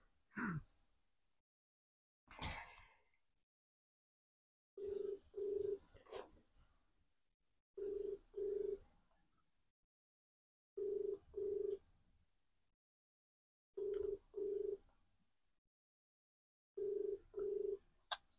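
A phone call being placed: a couple of faint taps and a sharp click, then a repeating double-burst ring tone sounding five times at regular intervals over near silence.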